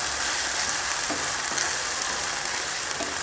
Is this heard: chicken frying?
yes